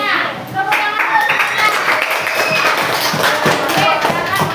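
A classroom of children claps for a group in a junior high social studies lesson, a loud, dense burst of applause running steadily for several seconds, with a faint murmur of voices under it.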